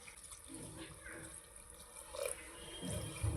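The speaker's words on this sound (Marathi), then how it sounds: "शिजवण्यापुरता पाणी टाकूया." Water is poured into a pot of chopped spinach, dill and dal for a mixed vegetable dish, giving a steady, close splashing trickle over kitchen background noise that swells toward the end.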